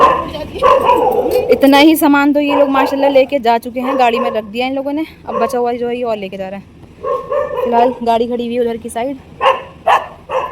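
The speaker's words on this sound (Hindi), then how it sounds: "कुत्ते तो देखो कैसे भौंक रहे हैं यार।" Several dogs bark and yelp in loud overlapping bursts outside a house during moving day, while someone talks over the barking throughout.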